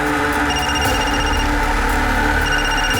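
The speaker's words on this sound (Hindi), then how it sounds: "फोन है सर।" A telephone rings in a steady repeating electronic pattern of short bursts over a continuous background hum, fairly loud and close, with no talk.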